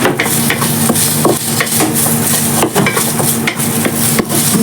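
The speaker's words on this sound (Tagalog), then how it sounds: "May background akong maingay kasi andito yung alaga ko sa aking gilid. Naglalaro ng takip ng kaldero." A pet plays with a metal cooking-pot lid at home, making repeated clanks and scraping rattles that are loud and close, with no voices.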